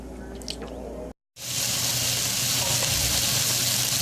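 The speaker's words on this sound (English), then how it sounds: "I've sauteing as I currently speak my onions and my sausage right now" Onions and sausage sautéing in a pan give a steady, close broadband sizzle that starts abruptly after a short silence and holds evenly throughout.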